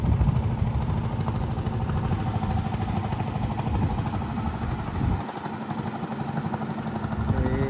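A fishing trawler's engine runs steadily and close, a dense low rumble with rhythmic clatter that holds through the clip, dipping briefly near the end before resuming.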